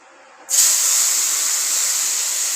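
Tomatoes dropped into hot oil for a Bengali doi katla curry burst into a sudden loud sizzle that holds steady as a bright, close hiss, with no voices.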